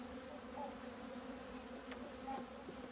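Honeybees buzz steadily at an open beehive during a hive inspection, a close, continuous drone with a few brief louder passes of individual bees and no talk.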